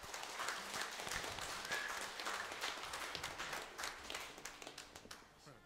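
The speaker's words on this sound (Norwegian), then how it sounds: "En skikkelig applaus for Christian." An audience at a Norwegian song meeting applauds for Christian, steady warm clapping from many hands that thins into sparser claps toward the end.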